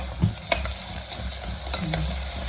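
Tempering spices and ground masala sizzle in hot oil for a Telangana-style mutton curry, a continuous close frying hiss broken by a few sharp stirring clinks.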